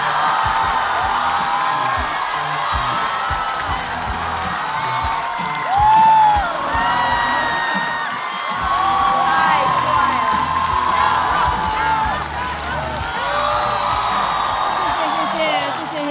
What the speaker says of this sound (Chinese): 让我们掌声有请小鹿。